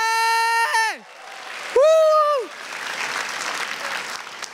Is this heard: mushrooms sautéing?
no